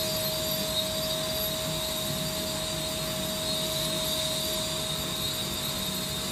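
A SubSonex jet aircraft's engine at idle while taxiing, a steady, even whine and rush with a constant high tone running throughout, moderately loud and unbroken, with no talking.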